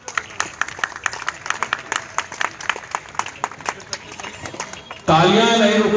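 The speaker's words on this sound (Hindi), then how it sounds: "तालियां नहीं रुकनी चाहिए" Audience applause at a Republic Day trade association gathering in Uttar Pradesh, sustained rapid clapping from a crowd for about five seconds, then cut off by a sudden burst of other loud sound.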